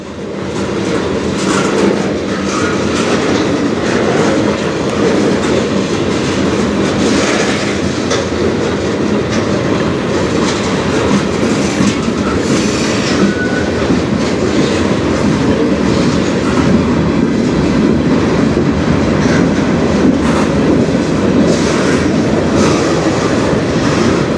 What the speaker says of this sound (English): Usually only the snail train goes this slow towards the tunnel